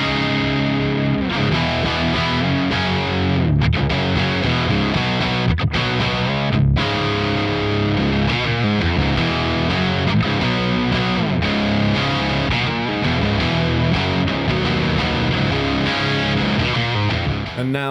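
Heavily distorted electric guitar from a Revv Generator 100R MKIII amp on red drive, a sizzling high-gain tone played in loud, sustained riffs with brief chugging stops.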